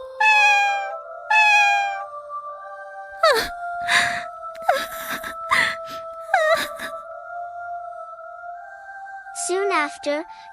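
A white cat meows repeatedly, loud sustained wailing cries over a background of held musical tones, with a rapid run of short cries near the end.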